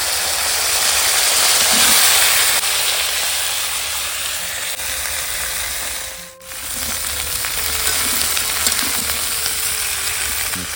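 Cauliflower and potato curry cooking in a pot over a clay stove gives off a steady, fairly loud sizzle and bubbling hiss that runs unbroken, with no voices.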